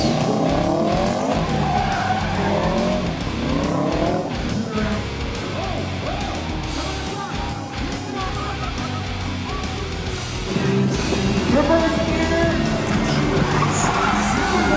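A stunt car performing driving moves skids with drawn-out tire squeals and engine revving, sustained over a noisy crowd and commentary throughout.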